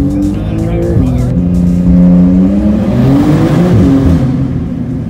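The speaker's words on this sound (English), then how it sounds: "you hear the turbos like, shh, and then just down." A Porsche 911 Carrera S engine roars up close and accelerates steadily, its pitch rising and falling through gear changes, with a turbo hiss on top and voices underneath.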